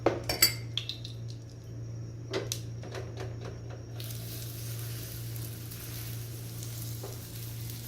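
Potato tacos (aloo ke tacos) frying in hot oil: a few clinks of utensils at first, then a steady, even sizzle that grows fuller and continues alone.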